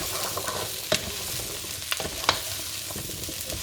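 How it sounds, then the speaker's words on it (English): Sweet potato being stirred into a vegan curry mixture in a pan, with a steady low sizzle and a few sharp scrapes and clinks of the spoon against the pan, close and moderately loud. "the sweet potato into the mixture. Like so. I'm going to just stir it in a minute"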